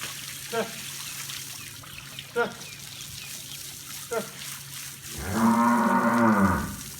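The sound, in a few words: cow mooing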